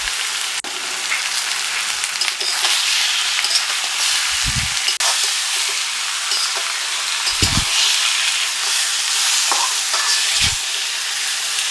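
Mutton pieces fry in oil in a kadai with onions, dried red chilli and bay leaves, giving a loud, continuous sizzle broken by a few dull knocks of a stirring spoon against the pan.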